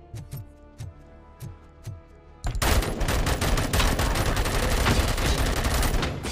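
Gunfire in Robocop: Rogue City, first a few separate loud shots spaced apart, then a sudden sustained rapid burst of automatic fire that carries on dense and loud to the end.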